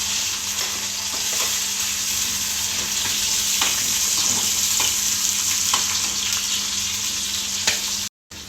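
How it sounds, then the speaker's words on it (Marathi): Carrots, capsicum and peas frying together in hot oil for a vegetable biryani, a steady close sizzle with occasional stirring scrapes, continuous throughout and briefly cut by a short gap near the end. "गाजर घालायचं, नंतर थोडी शिमला मिरची आणि वाटाणा, हे तिन्ही एकत्रच तळून घेत आहे।"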